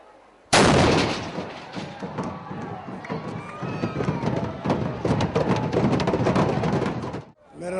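A ceremonial cannon fires during an Ashura procession with a sudden loud blast. A dense roar of crowd noise, crackling and running follows and holds for several seconds before cutting off.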